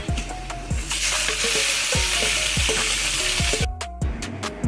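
Meat goes into a loud, sizzling pan of browned onions and spices, with a constant crackling hiss and a few metallic clanks and scrapes of a utensil against the pot, and no voices.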